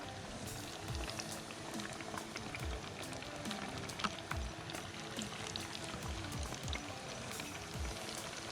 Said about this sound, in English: I'm gonna go ahead and lay the bluegill down in the fryer just like this.